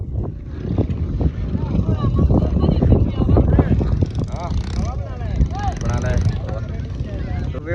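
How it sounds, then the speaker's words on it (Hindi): Rusi tractors rolling past one after another in a village after a tractor race, a loud rumbling engine drone with wind buffeting the microphone and someone talking over it. "ये देखें जी आप, ये ट्रैक्टर जा रहे हैं सामने"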